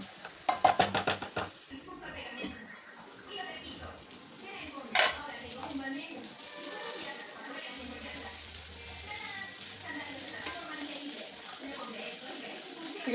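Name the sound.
carrot fry being stirred in a covered pan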